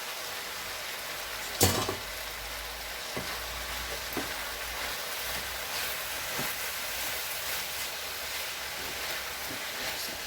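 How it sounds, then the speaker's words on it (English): Vegetable rice stirred in a frying pan: a steady close sizzle with scattered scrapes and clinks of the utensil, one sharper knock early on, no voices. "Just go ahead and stir it together."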